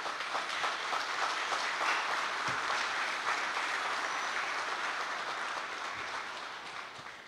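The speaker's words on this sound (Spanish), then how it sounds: "pedir un fuerte aplauso para nuestros homenajeados" Audience applause for honorees at a ceremony, a steady wash of clapping that holds for several seconds and then slowly fades out.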